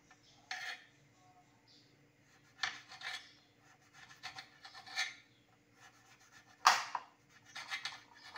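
Knife slicing ginger thinly, a series of quiet scraping, rasping cuts against a board, spaced irregularly with brief pauses between strokes.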